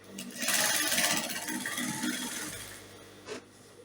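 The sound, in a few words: sewing machine stitching a gown side seam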